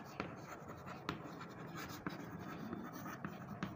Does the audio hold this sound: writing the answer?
yes